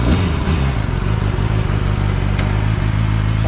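A KOVE 450RR motorcycle engine runs at a steady stationary idle-to-rev, its loud, close, continuous mechanical drone carrying throughout with a low rumbling pulse and no talking.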